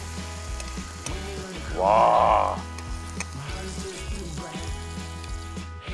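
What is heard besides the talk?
eggplant stir-frying and sizzling in a pan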